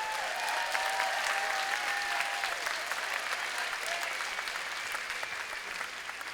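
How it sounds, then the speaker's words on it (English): Audience at a FIRST robotics competition opening ceremony applauding, a sustained wash of many hands clapping in a large venue, steady and moderately distant, slowly tapering toward the end. "Let's give him a round of applause"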